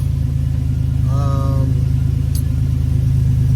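A 1987 Buick Grand National's engine idles close by with a steady, deep, even drone, while the car is checked for an internal leak in its Powermaster brake system. A voice speaks briefly over it.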